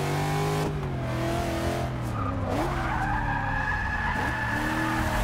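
Racing car in Forza Motorsport 6 braking hard into a turn, with tires squealing and skidding over a loud engine note that drops and then climbs again through a few seconds of steady game audio.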